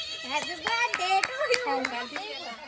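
Family members clap at a birthday cake cutting, sharp rhythmic claps in a steady run, mixed with children's voices chattering close by.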